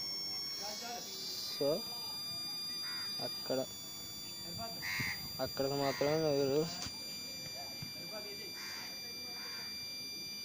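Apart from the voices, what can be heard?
satellite finder meter beeping while aligning Airtel DTH dish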